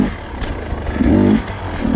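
A 2024 Beta 250 RR dirt bike engine pulls in third gear, its mid-pitched two-stroke drone holding steady and swelling into a brief rev near the middle before settling, close and loud with no talk.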